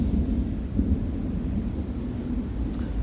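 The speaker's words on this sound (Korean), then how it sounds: "마침부터 천둥도 쳐주네요." Thunder rolls as a deep, continuous low rumble that stays steady and fairly loud throughout, with no voices.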